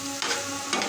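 Onions and two or three green chillies fry in a pan and are stirred, giving a steady close sizzle with brief scraping bursts from the stirring.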